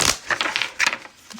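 Tarot cards riffle and slap together in quick bursts of shuffling, close up and crisp, with several short papery flutters in an uneven rhythm and no talking.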